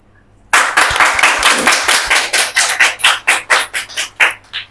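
An audience at a seminar applauds after a presentation, with loud, close hand clapping that starts suddenly. It thins out into slower, distinct individual claps toward the end.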